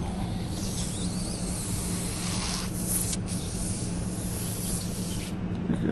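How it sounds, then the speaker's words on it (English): A continuous steady hiss of air leaking from a tire tube despite tire slime sealant, close and unbroken for several seconds, with faint rustling handling noise. "I don't know if you can hear it leaking out."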